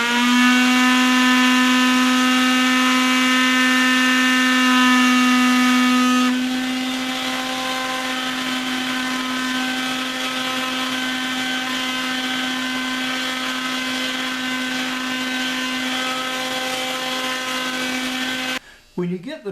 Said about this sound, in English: we're going to start this sander